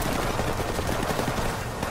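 Rapid automatic gunfire from Call of Duty Modern Warfare Remastered rattles continuously in dense, loud bursts, close and unrelenting with no pauses or talk.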